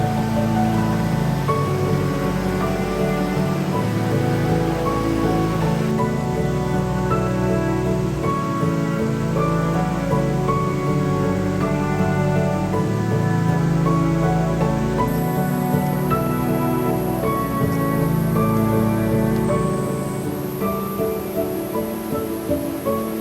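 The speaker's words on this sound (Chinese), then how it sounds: "现在在下雨，然后所以这个路面都很湿滑" Rain falling on a wet forest trail, a steady, even patter and hiss that fills the whole stretch without letup.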